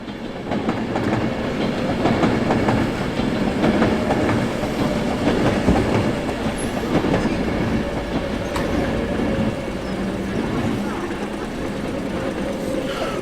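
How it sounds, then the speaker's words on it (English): A train passing at Crewe Heritage Centre during a classic car show, with a steady rumble and rail clatter lasting throughout, heard fairly close among outdoor crowd noise and scattered voices. "A train going by."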